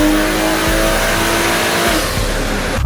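A custom-tuned BMW M340i fresh off the dyno, its engine revving loud and close with a steady roar, brief dips in throttle, and a low rumble throughout.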